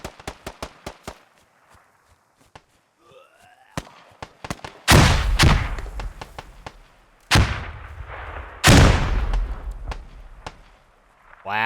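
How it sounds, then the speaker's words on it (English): Loud grenade blasts in a squad-based military shooter game's hilltop battle, two big booming explosions with rumbling tails among scattered sharp gunshots and footsteps, with a commentator's voice in between. "Wow, what a grenade there."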